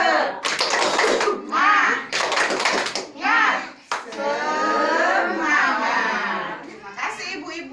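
A group of mothers performs a rhythmic cheer clap (tepuk semangat) in a session, patterned bursts of clapping alternating with chanted voices, loud and close.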